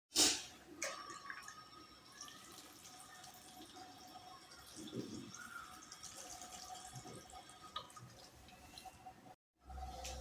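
Small dried fish (sukat) being washed in a bowl of water, with soft continuous sloshing and faint drips close by, fairly quiet throughout and no talking.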